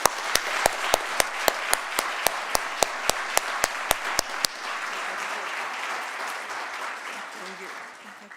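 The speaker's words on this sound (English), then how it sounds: "please join me in giving another big round of applause for our Mayor, Mat Siscoe." An audience at a city State of the City address breaks into applause, sharp individual claps ringing out at first, then merging into a steady, dense wash of clapping that carries on for several seconds.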